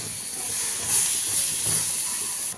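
Tomato and onion paste, fried in oil and ground, tipped into a hot pan for okra tamarind stew, giving a steady loud hiss of sizzling that holds for a couple of seconds before easing slightly.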